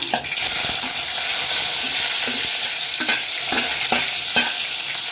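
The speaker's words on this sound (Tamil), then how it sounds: "இப்போ கடுகு நல்லா பொரிஞ்சிடுச்சு. இப்போ நம்ம வெங்காயம் சேர்த்துக்கலாம்." Onions go into hot oil with popped mustard seeds and fry with a steady, loud, close sizzle, broken by a few stirring scrapes of a utensil against the pan, with no talk.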